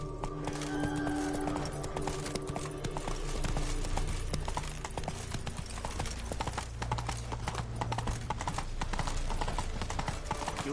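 Roach the horse galloping in a video game, with rapid, continuous hoofbeats that stay loud and close over a low rumbling backdrop.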